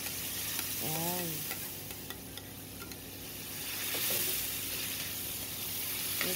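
Potatoes fry in a pan for corned beef with a constant close sizzle, while a utensil stirs them with scraping strokes and light taps. A brief voice sounds near the start.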